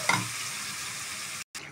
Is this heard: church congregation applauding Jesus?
no